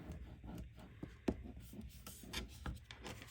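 A bone folder rubs and creases folded paper for a pocket bookcase, making soft close scraping strokes with one sharper tap, quiet throughout.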